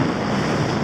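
Strong 20 to 30 knot wind offshore at sea during rough weather on a sailing passage toward the Caribbean, a loud steady roar buffeting the microphone in a short burst with no talk.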